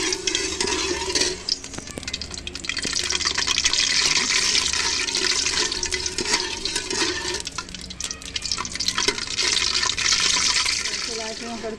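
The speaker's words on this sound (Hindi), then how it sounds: "इलायचियाँ कड़कड़ा रही हैं।" About four cardamom pods crackle and sizzle in hot ghee in a pan, a continuous busy spitting and popping at close range, with faint stirring scrapes throughout.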